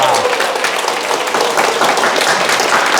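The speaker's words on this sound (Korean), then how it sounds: "좋은 질문해 준 분께 큰 박수 부탁드립니다." An audience at a Korean dharma talk breaks into sustained applause, a dense wash of many hands clapping steadily and fairly loudly throughout.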